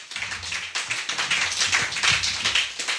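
A church congregation claps together in a dense, steady applause to acclaim the Lord, sustained throughout with no voices over it.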